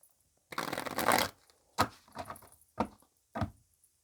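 Tarot cards are shuffled by hand: a long riffling burst, then several shorter shuffles and taps, close and clear in a quiet room.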